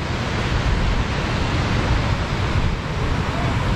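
Pykara waterfall near Ooty pours in the rain, a constant loud rushing roar of falling water with faint wind buffeting and no speech.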